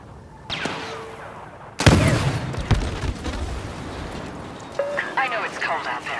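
Blaster fire aimed at a droid in Star Wars Battlefront, heard as a sudden loud burst of shots and booming impacts followed by rumbling noise and a few sharper electronic zaps, with a voice present in parts.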